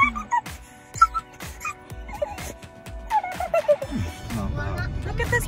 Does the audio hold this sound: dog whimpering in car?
yes